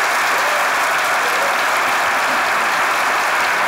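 Studio audience applause on a Turkish sketch comedy show, a dense steady wash of many hands clapping at full loudness, alone and unbroken throughout.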